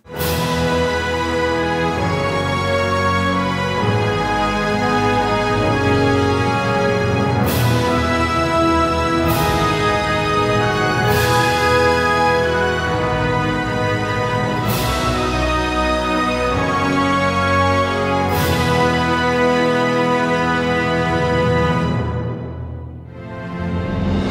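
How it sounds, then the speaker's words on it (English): Huge orchestral arrangement built in Cubase with Spitfire Audio libraries, loud and dense throughout, with repeated sharp accented hits rising above full sustained strings and brass, then cutting off abruptly near the end. "into a huge orchestral arrangement that sounds like this."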